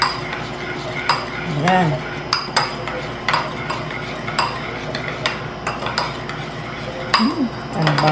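Raw pork neck being stirred by hand with a whole head of garlic and salt in a bowl, giving scraping, clinking utensil-and-dish noises in irregular bursts, close by, with a voice speaking briefly.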